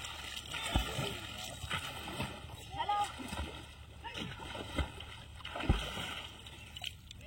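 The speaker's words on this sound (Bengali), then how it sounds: "এই যে আমি পুকুরে ঘা দিচ্ছি আর সোনার বাবা জাল ফেলছে।" Water splashes and sloshes in a village pond as a fishing net is cast and the surface is beaten, irregular splashy bursts close by, with people talking throughout.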